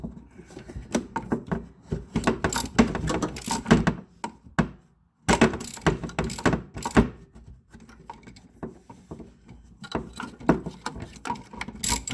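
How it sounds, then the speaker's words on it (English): Ratchet and socket extensions working loose an O2 sensor on a Dodge Grand Caravan rear manifold: repeated bursts of clicking pawl strokes and metallic clunks, with a brief silent pause midway, close to the mic. "We're going to go ahead and put our ratchet and extensions back on the socket to help us get it loose."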